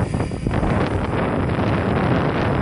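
Steady wind buffets the microphone, a continuous rough roar with low rumbling gusts and no other clear sounds.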